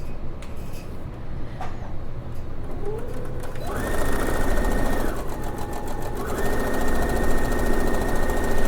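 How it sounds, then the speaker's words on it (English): A sewing machine stitches fabric pieces for a face mask, a loud steady mechanical whir that runs in two long bursts with a brief pause between, following some quieter handling at the start. "I'm going to do the same thing, putting right sides together and stitch this one."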